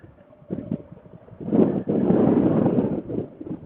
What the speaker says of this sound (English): It is really windy out here.